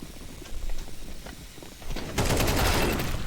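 Counter-Strike gameplay with scattered gunshots that build into a dense burst of rapid automatic fire near the end, fairly quiet overall.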